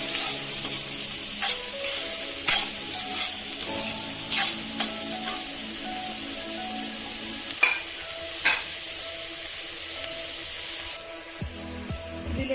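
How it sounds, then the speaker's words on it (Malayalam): Onion and green chilli sautéing in a pan for chicken masala gravy: a steady close sizzle broken by repeated scraping stirs of a spoon against the pan, with no talking. "ഉള്ളി വഴണ്ട് വരുമ്പോൾ പച്ചമുളക് ഇട്ട് കൊടുക്കുക. എന്നിട്ട് നന്നായിട്ട് ഇളക്കി കൊടുക്കുക."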